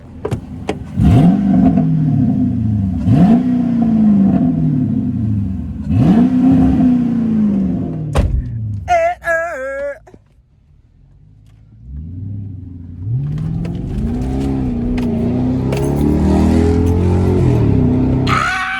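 A straight-piped Chrysler 300C with a Hemi engine revs hard in repeated loud, rising bursts, drops away to near quiet for a moment, then roars back up in a steady, heavy climb.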